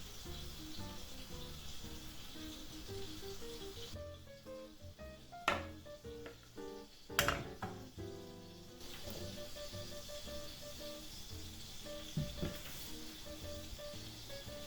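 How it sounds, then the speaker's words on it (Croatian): Pancake batter frying on low heat in an ungreased pan, a faint soft sizzle running throughout, broken by a few brief scrapes and clatters. "I pržim ovako na laganoj vatri 1 do 2 minuta."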